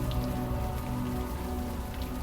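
Steady rainfall in the game Unavowed, a constant close wash of drops striking surfaces that never lets up, with no voices.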